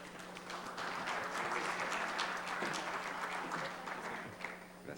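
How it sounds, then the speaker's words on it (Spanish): Audience at a forum on energy security and sovereignty breaks into steady, sustained clapping, filling the hall evenly at a moderate distance with no voices over it. "Recibámoslo con un fuerte aplauso,"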